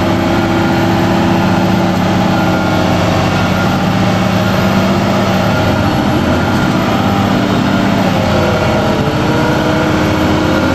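A heavy haul truck's diesel engine labors and bogs down under load, a loud, steady low rumble with strained mechanical noise running unbroken throughout.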